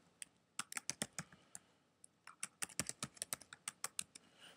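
Crisp, clacking keystrokes on a computer keyboard come in quick irregular bursts with a short pause midway, close and clear with no talking.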